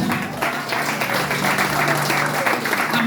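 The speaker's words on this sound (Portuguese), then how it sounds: "exalta Jesus com palmas" A church congregation at an IPDA evangelistic service claps in praise of Jesus, producing steady, loud, dense applause with a faint sustained tone beneath.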